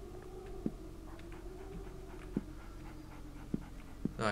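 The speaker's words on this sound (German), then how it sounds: "Irgendwo ist hier ein Hund am Rennen." A dog in the video game 7 Days to Die, panting steadily and fairly faint, with a few soft thumping footfalls as it runs somewhere nearby.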